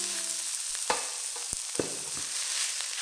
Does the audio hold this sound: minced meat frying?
yes